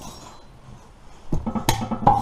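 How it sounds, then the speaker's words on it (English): A metal 8mm socket clinks and rattles as it is picked up during work on a Ford Explorer 8.8 axle, a few bright metallic taps after a quiet stretch. "we get a 8mm socket"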